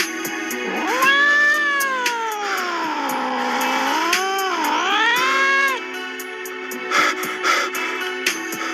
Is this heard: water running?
no